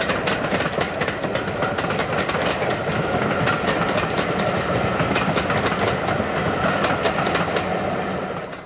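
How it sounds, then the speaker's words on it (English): BR black-liveried steam locomotive 6990 hauls a train of assorted BR-liveried coaches past on a main line, a steady rolling rumble with rhythmic clickety-clack of wheels over rail joints, loud and close throughout. "BR Black Liveried 6990, with its appropriate train of assorted BR liveried coaches"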